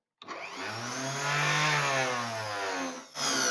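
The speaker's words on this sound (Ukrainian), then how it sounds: "мені не подобається робота двигуна" A Clatronic juicer motor switched on and running with a loud, steady whine that rises slightly in pitch, dips briefly near the end and then picks up again, close and without talk.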